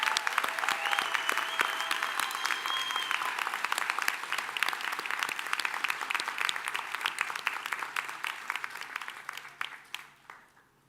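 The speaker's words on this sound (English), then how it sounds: "Let's have a round of applause for our restaurant and culinary management graduates." Audience applause for restaurant and culinary management graduates at a 2024 ICE-NY commencement, steady dense clapping from a large crowd sustained for about ten seconds before tapering off at the end, with faint voices and cheers mixed in.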